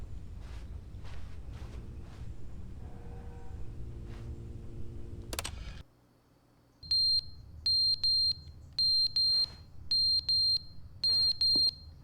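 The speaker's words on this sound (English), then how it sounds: "What's going on with the smoke alarm?" A smoke alarm in The Stanley Parable: Ultra Deluxe gives a run of sharp, shrill beeps in quick pairs after a stretch of quieter shuffling and footsteps, loud and piercing in an otherwise hushed room.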